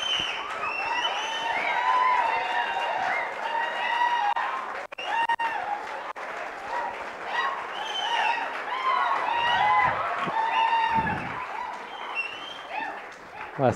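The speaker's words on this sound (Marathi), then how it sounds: "टाळ्या थांबल्या नाही पाहिजे" Continued clapping from an audience at a project competition prize distribution, a steady wash of applause under lively chatter and voices, with a brief dip midway.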